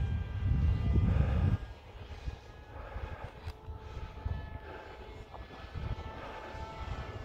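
An RC pusher-prop plane flies overhead on its maiden flight, its electric motor giving a steady whine that is loudest at first, then eases off as the throttle is pulled back, with wind rumble underneath.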